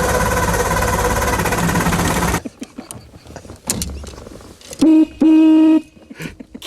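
An old historic car engine floods as someone tries to start it: a loud roar of rushing noise cuts off abruptly, followed by sputtering cranks, clunks and two sustained droning tones.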